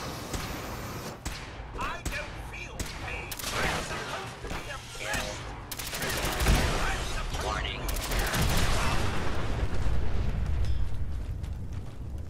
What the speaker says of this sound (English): It appears someone is shooting at us.